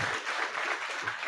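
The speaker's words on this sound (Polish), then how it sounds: "jeszcze raz wielkie brawa" Audience applause for a speaker at a startup law talk in a Polish lecture hall, a dense steady patter of many hands clapping throughout the short moment, moderately loud with no voices.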